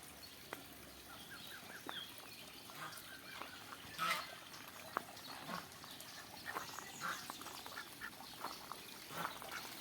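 Faint ducks quacking at a distance in a spring park, scattered calls over a low, steady outdoor background, with no voices.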